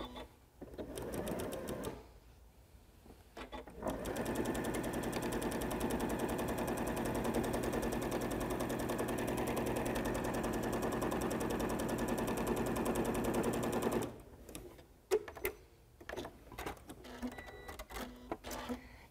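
A sewing machine stitches a quarter-inch seam along the long side of a fabric placemat, running in one steady, close whirring buzz for about ten seconds. Scattered clicks and handling noises come before and after the run.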